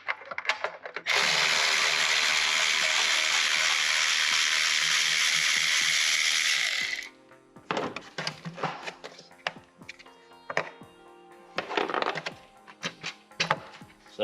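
A power tool whirs steadily for about six seconds while loosening engine cover bolts on a 2019-2023 Duramax LM2/LZ0 3.0L diesel. Scattered ratchet clicks and metallic handling noises follow, close up.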